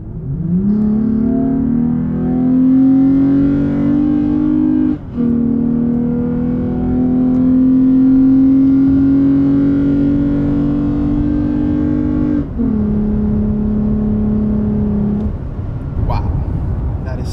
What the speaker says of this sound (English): Right away, you guys are going to notice that induction noise. I can finally feel the truck roar.